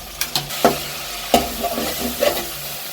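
Vegetables and coconut oil stirred and sautéing in a pan for a meatless curry, with a steady faint sizzle broken by several distinct scraping stirs of a spoon against the pan.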